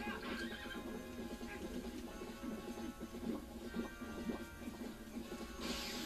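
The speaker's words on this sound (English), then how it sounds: "Another great thing about the game is obviously the horse" A horse in Zelda: Twilight Princess neighs and whinnies while its hooves clip-clop, with game music and effects layered underneath throughout.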